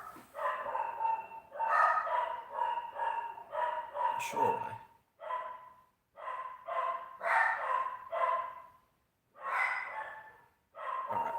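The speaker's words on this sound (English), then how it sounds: "Again, the dog is going nuts." A dog barks frantically indoors in repeated bursts of rapid yaps, muffled and somewhat distant, separated by short pauses, with a few words spoken in between.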